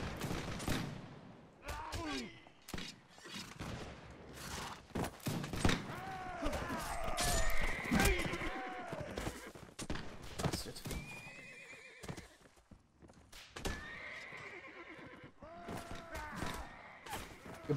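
Cavalry horses in the Mount & Blade video game neigh and whinny repeatedly over galloping hoofbeats, while scattered musket volleys crack in a busy battle.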